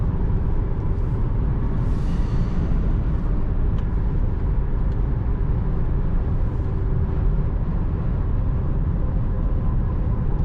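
Skoda Superb 2.0 TDI 190 HP 4x4 with DSG gearbox cruising on a highway autobahn, a constant broadband road and wind roar with low engine hum heard from the cabin, steady and unchanging, no talking.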